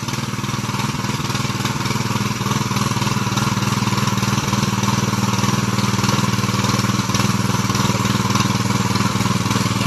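A power tiller ploughing a waterlogged rice field in rainy Konkan, its engine running at a loud, steady, unbroken drone close by throughout, with no talking over it.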